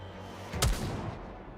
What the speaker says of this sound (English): Red Hood opens fire and hits Dorothy.